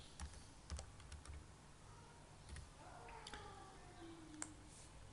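Someone types on a computer keyboard while entering a table of contents heading in Microsoft Word, with scattered soft key clicks over a steady low hum and faint background noise.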